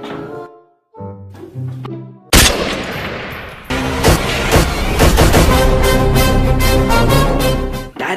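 Burst of video game gunfire, a few sharp shots early on, then dense, loud continuous firing with music-like layered tones filling the rest.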